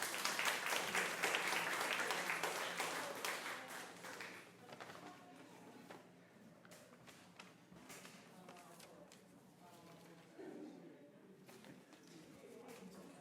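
Audience applause at a storytelling night in Bremerton, Washington, a dense burst of clapping that fades over a few seconds into scattered claps, with a voice speaking afterward.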